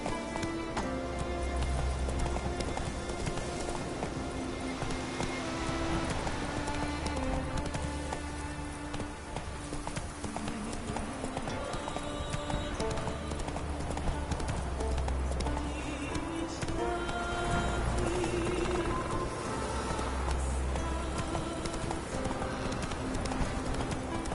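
Steady clip-clop of Geralt's horse Roach's hooves in The Witcher 3: Wild Hunt, a continuous trotting rhythm under a dense layer of music and ambient birdsong, with a faint whinny.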